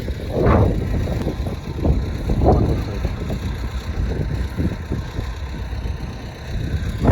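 A rough T-40AM tractor engine runs continuously nearby during cultivation with a KPSP-4M cultivator, with irregular low thumps and rumbling, heard alone without any talking.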